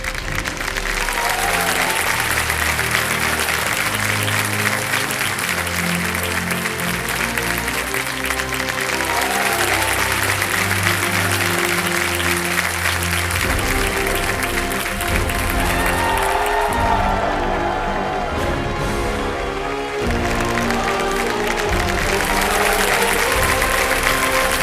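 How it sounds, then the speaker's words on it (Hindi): Loud, sustained applause and cheering from a studio audience on a television quiz show as a guest is welcomed, with music playing underneath throughout. "जोरदार तालियां"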